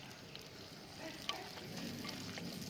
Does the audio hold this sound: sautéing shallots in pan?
yes